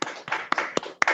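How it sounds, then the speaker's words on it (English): A round of applause for a coach after a parenting presentation, heard as a handful of close, sharp claps in quick uneven rhythm over about a second. "Let's give our coach Ebuka a round of applause."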